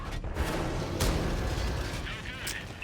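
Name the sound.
tank cannon shot in World of Tanks video game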